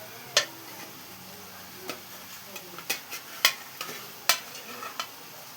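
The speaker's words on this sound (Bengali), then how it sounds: "মাছ ভাজা।" Pieces of boal fish fry quietly in a pan and are stirred, with a soft sizzle under a scattering of sharp utensil clicks and scrapes against the pan.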